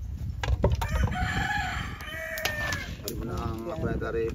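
A rooster crows nearby with a drawn-out call, surrounded by other chickens clucking, farmyard clatter and people talking in the background.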